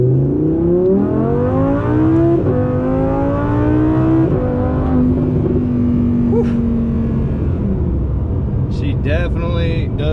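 2017 Vorsteiner Audi R8 engine accelerating hard from inside the cabin, a loud rising roar climbing through several gears with pitch jumps at each shift, and a voice talking over it.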